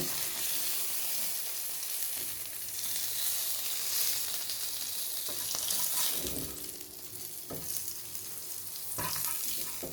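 Steady, loud sizzling of fish frying in hot oil, with a few clanks of a utensil partway through; no voices.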